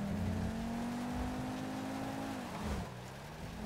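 Damaged car engine in the video game GTA 5, a steady low rough drone with a droning hum that sags in pitch near the end, continuous and moderately quiet with no talking.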